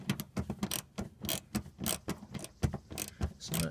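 A 7mm socket ratcheting a mud guard screw snug on a Chevrolet Cruze, rapid repeated metallic clicks in uneven bursts, close and fairly quiet, with no talk.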